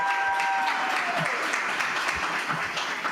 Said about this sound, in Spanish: Vamos a recibir también con un fuerte aplauso a Diana